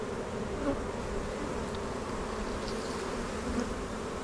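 A dense swarm of honeybees hums steadily around an open hive frame heavy with pollen and honey in an almond orchard during pollination, a continuous close buzz with individual bees flying past now and then.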